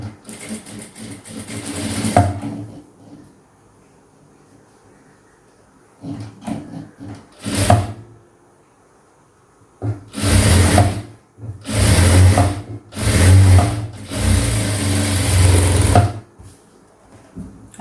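A sewing machine runs stitches along folded blouse fabric in quick mechanical bursts, with several loud runs separated by short pauses.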